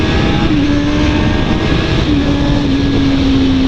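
Motorcycle engine held in third gear at speed on a freeway, a loud steady drone with a sustained tone that dips briefly and recovers, mixed with wind noise.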